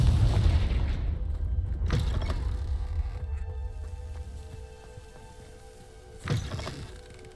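Confringo blasting spell in the Hogwarts Legacy video game, a deep booming explosion that fades into rumbling debris, with a second smaller thud near the end.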